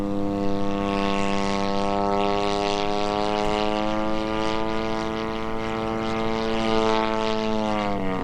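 50cc gas-engined Maxford Antonov An-2 RC model biplane in flight, a steady loud buzzing propeller drone with strong harmonics holding pitch then dipping slightly near the end, no speech.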